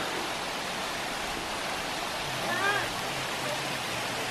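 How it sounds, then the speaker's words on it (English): Gorman Falls in Colorado Bend State Park, Texas, heard from the bottom near a pool: a steady, full roar of cascading water, with a brief faint voice near the end. "Water cascades down through this."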